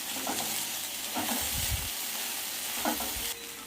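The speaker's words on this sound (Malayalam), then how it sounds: "എന്നിട്ട് ഇതൊന്ന് വഴറ്റിയെടുക്കണം വെണ്ടയ്ക്കും ഈ ചെറിയ ഉള്ളിയൊക്കെ ഒന്ന് വഴന്ന് വരണം" Okra and small onions sauté in a pan for a ladies' finger tamarind curry, a steady close sizzle broken by a few scraping stirs and utensil knocks, with no speech.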